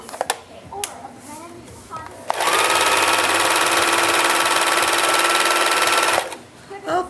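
A sewing machine stitching cloth baby wipes runs in one loud, steady whirring burst for about four seconds, close up, framed by clicks and handling noises before and after.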